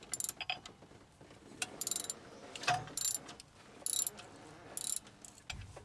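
A ratchet clicks in short bursts as a bolt is worked loose on the alternator of a 1980 Chevy truck with a 350 engine, close and intermittent with quiet gaps and a couple of light metallic knocks.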